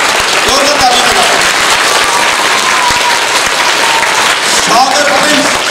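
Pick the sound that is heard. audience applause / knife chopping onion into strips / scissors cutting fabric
audience applause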